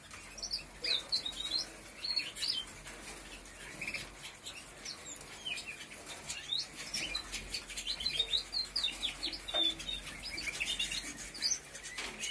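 Small birds chirp and tweet continuously outdoors, a dense chorus of high, quick calls at moderate distance with occasional fluttering, steady over a faint background hiss.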